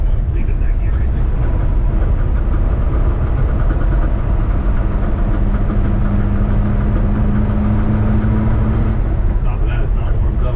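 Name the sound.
C10 shop truck engine running, not warmed up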